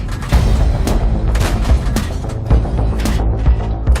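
Tank cannon fire in World of Tanks, an autoloader tank with a drum magazine, loud booming reports at a steady pace over continuous battle rumble with no talk.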